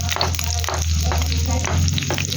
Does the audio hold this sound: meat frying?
yes